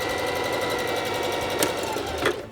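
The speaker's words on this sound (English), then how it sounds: "This is my new sewing machine that I got" A new sewing machine runs steadily, stitching fabric for a homemade face mask, with a fast, even mechanical whir that holds close and loud throughout, broken by a couple of brief clicks near the end.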